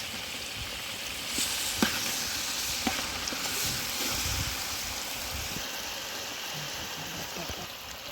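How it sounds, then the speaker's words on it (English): Mint, thyme, green chilies and curry leaves frying in hot oil, a dense crackling sizzle with a few sharp ticks of stirring throughout. "So here I have my mint, my thyme, my green chilies and curry leaf. I will let it fry now."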